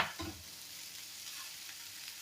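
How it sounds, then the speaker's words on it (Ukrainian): Carrots and onion sizzle steadily in a frying pan, a continuous crackling hiss with a brief stir near the start. "А тут смажиться ще в мене морква, морква з цибулькою."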